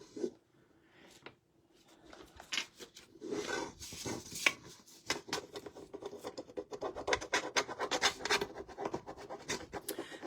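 Metal leaf being rubbed by hand onto a vintage cake cover, a soft close scratching and rasping that starts faint and grows busier and louder in quick irregular strokes.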